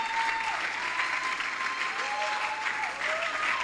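An audience at a church session claps steadily in a sustained round of applause welcoming a speaker, dense and even throughout, with a faint voice over the clapping.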